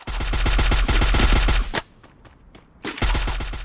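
Automatic gunfire in a shooter video game, loud rapid bursts of shots in a fast rhythm, a brief pause with a few scattered cracks, then another sustained burst.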